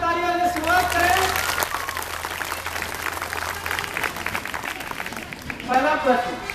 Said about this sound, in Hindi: ऑडियंस जोरदार तालियों से शुरुआत करें